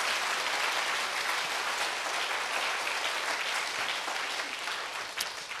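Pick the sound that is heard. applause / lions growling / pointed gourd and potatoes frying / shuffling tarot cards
applause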